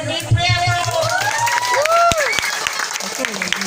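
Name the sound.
applause for Johnny at a wedding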